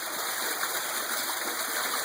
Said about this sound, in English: This is the spillway going to the swamp.